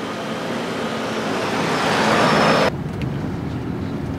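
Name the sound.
Toyota Alphard driving on road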